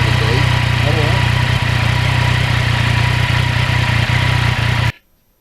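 A 2020 Yamaha MT-09 motorcycle engine runs steadily with a low droning hum, close by, then cuts off abruptly near the end.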